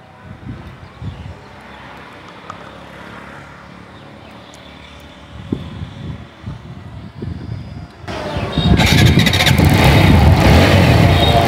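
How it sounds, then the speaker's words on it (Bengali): A motorcycle engine idles with a low, uneven chug, then the revving grows noticeably louder and rougher toward the end. "আমরা বাইকের সাউন্ড কন্ডিশনটা একটু শোনানোর চেষ্টা করতেছি"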